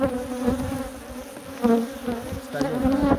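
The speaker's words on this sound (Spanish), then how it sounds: "Pues esta está llena de abeja." Honeybees hum inside an open hive, a close, steady buzzing drone with small swells and dips in pitch from the busy colony, heard alone without talk.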